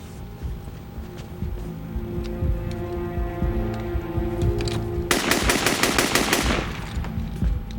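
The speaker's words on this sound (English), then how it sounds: "he fired on everything around." Automatic gunfire from hijackers aboard an airliner, a loud rapid burst of closely spaced shots cutting in sharply over a low engine drone and tense background score, then quickly stopping.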